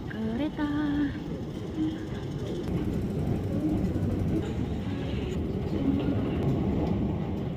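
Riding an MTR train, a steady low rumble and rattle fill the carriage throughout, with passengers' voices mixed in.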